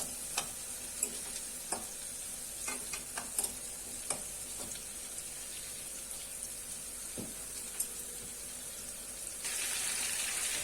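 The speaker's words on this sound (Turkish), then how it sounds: "Şöyle biberlerimiz de kızarıyor" Peppers fry in a pan with a steady high hiss, clicks and scrapes of stirring dotted through. The sizzle swells louder near the end.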